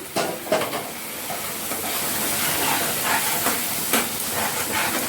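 Hot water poured into a sizzling pan of frying spices for a rohu fish curry gives off a loud, continuous steam hiss, close and unbroken throughout.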